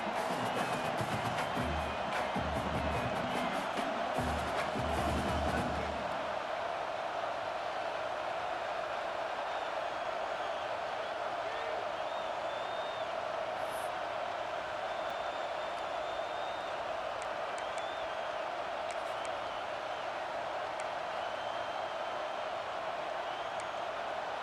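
Stadium crowd noise from EA Sports College Football 26, a steady broad roar filling the whole stretch, with a louder rumbling swell in the first few seconds before settling into a constant background din.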